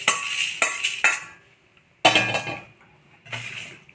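Roasted fenugreek seeds are tipped from a pan onto a plate in a home kitchen, giving a few close, bright clinks and scrapes of metal on dishware in short bursts separated by brief pauses.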